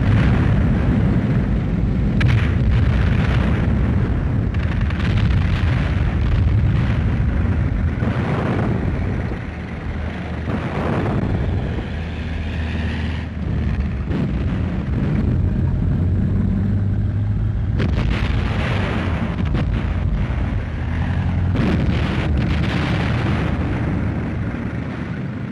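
Wartime artillery shell fire in the Western Desert during the Second World War, with supply lorries moving under fire: a loud, continuous rumbling barrage broken by heavy explosive bursts that runs for about twenty-five seconds with no voices.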